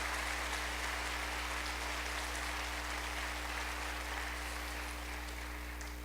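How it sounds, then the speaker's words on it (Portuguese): A church congregation breaks into steady applause for the Lord, a continuous, fairly quiet clapping wash over a constant low hum. "dê um aplauso ao Senhor, um aplauso cheio de autoridade que nós temos"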